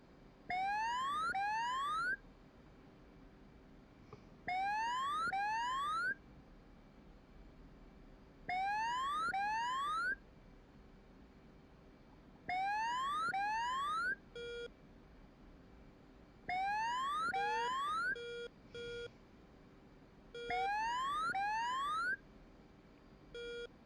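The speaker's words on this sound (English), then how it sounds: "I'm not sure what is going on there with that alarm." A cockpit radar warning alarm in the DCS flight simulator repeats a loud electronic beeping pattern of sweeping tones roughly every four seconds over a steady engine hum, with no talking.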